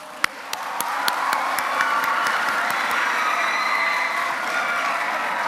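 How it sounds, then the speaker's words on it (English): Seminar hall audience of schoolchildren applauding, a few sharp early claps swelling into sustained, dense clapping that continues steadily to the end. "let's all applaud ourselves for today's successful program"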